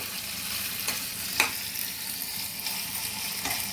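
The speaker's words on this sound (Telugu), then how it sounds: "ఇంకా మనం ఆయిల్లో ఇది మగ్గించాలి" Chicken and eggs frying in oil with salt, chilli, turmeric, coriander powder, cumin powder and garam masala, giving a steady close sizzle with a few soft stirring scrapes throughout.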